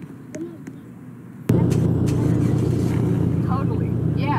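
Ferrari F8 Tributo engine and exhaust in a Roblox game, quiet idle under a voice, then a sudden loud, sustained engine roar that holds steady to the end while he keeps talking over it.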